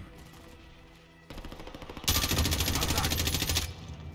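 In Warzone's zombie mode, rapid bursts of automatic gunfire grow louder and denser, a sustained rattling volley near the end, with faint game sounds beneath.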